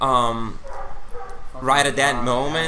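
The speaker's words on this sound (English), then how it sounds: "just barking right there outside" A dog barks outside in a few short bursts, heard behind and between a person talking indoors.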